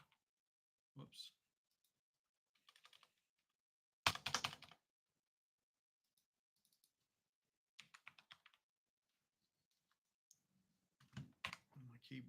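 Scattered bursts of typing on a computer keyboard, quick clusters of clicky keystrokes separated by pauses, close and fairly quiet, with a malfunctioning keyboard during a live stream.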